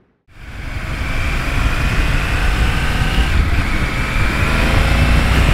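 Triumph Tiger 900 GT Pro motorcycle cruising on a highway in road mode, a steady loud engine drone mixed with rushing wind that starts abruptly and holds constant throughout, with no talk.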